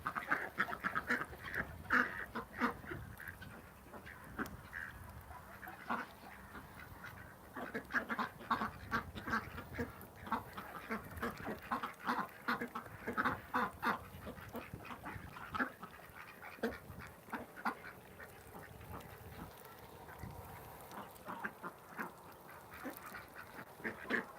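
Farm ducks call out over and over in cold weather, a dense, continuous chorus of overlapping quacks near and far with no talk.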